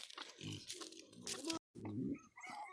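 Pigs grunt and snort close by in short bursts, a cluster of low rough oinks with a brief pause.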